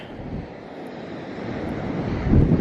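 Waves and wind on a Martha's Vineyard beach: a steady low rumble of surf with wind buffeting the microphone, swelling louder toward the end, with no voices.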